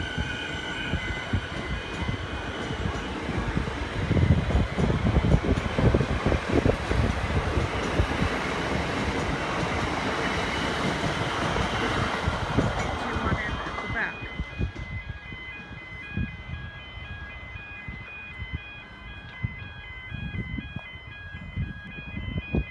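A commuter train rumbles into Parkdale station's platform, loud wheel and carriage noise building then easing as it slows, with a faint high squeal and tones near the end; a voice speaks briefly underneath.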